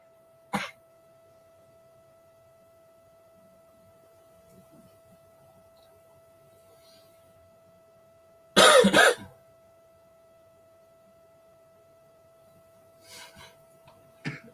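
Coughing in a quiet room: a short cough near the start, a louder, harsher burst of coughs midway, and faint throat noises near the end, with a steady low hum throughout.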